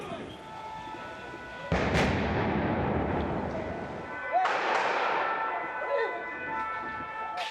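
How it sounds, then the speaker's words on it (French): Gunfire during the police assault on the Bataclan in Paris: two sharp, loud reports about three seconds apart, each echoing and decaying over a steady ringing tone, with no talk. "Attendez, on entend des coups de feu."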